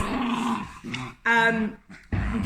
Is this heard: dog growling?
yes